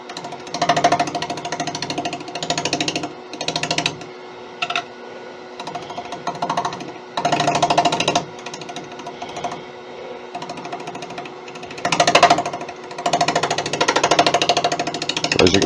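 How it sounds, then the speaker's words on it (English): A scraper shear-scrapes the outside of a beech and bubinga bowl spinning on a wood lathe, making a rough buzzing whir in repeated bursts of a second or two with short pauses between passes. "I'll be mostly shear scraping the shape of the outside"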